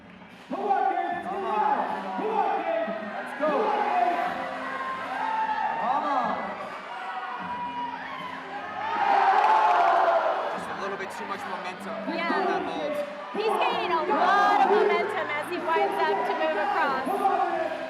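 A large crowd at the finals of a bouldering competition cheers and whoops steadily, with a louder surge midway, while chatter and shouts run throughout.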